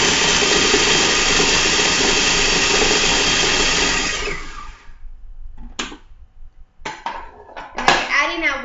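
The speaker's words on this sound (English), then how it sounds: "Empty all the dry ingredients to your food processor. And then you blend it until whatever texture you like" Food processor blending dry ingredients with nuts, chunky texture: a loud, steady grinding roar for about four seconds, then it stops and short clattering knocks and handling noises follow.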